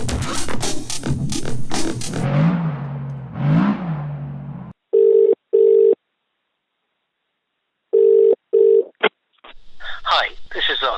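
A telephone rings in short repeated electronic bursts with silences between them, following earlier speech and followed by talking at the end, ahead of an answering machine greeting.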